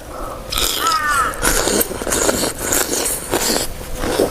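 Crisp fresh shrimp crunch between the teeth, close to the mic, in a rapid series of wet cracking bites and chewing sounds.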